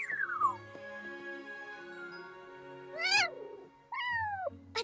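A Tuca kitten, a cartoon creature from Young Jedi Adventures, gives a few high, sliding meows, with a short cry near the start and two clearer rising-falling calls later, heard close and alone over faint background tones.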